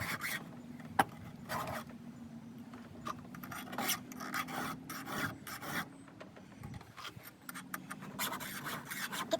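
Round file rasping along a semi-chisel chainsaw chain being hand sharpened, a continuous series of scraping strokes close up with short pauses between passes, no voices.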